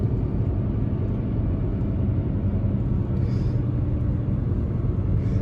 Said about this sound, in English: The tires are really noisy, man.